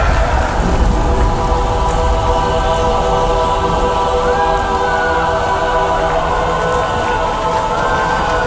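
Recorded rain and thunder play within a live metal song, a dense continuous wash of rain with low rumbling swells, loud and steady under sustained musical tones.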